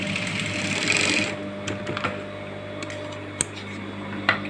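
Sewing machine stitching a baby frock, running at a steady, close, fairly loud whir for about a second before easing into lighter ticking and clicks of the mechanism, alone without talk.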